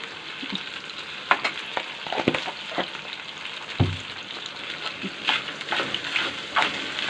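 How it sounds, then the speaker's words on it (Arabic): Sardines frying in oil in a pan, a steady crackling sizzle punctuated by irregular clacks and a heavier knock as the fish are moved about, close and fairly loud with no speech. "بتشوح لحد ما يتشمع بالمادة الدهنية، لحد ما يتشمع بالزيت كده"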